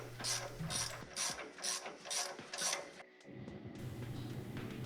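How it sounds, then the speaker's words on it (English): A Knipex 3/8-inch 90-tooth ratchet clicks in several quick, evenly spaced bursts of fine, close, crisp ticking, followed by a softer mechanical rustle. "So it's a 90-tooth Nipros, and it is just really a great ratchet."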